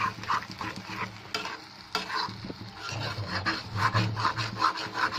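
Goat brain sautéed with spices in a pan, giving close, continuous rubbing scrapes of a spatula over a steady frying sizzle with rhythmic stirring strokes.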